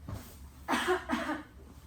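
Two short, harsh coughs in quick succession, close to the microphone, against a quiet background.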